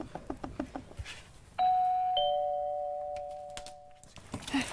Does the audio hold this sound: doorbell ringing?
yes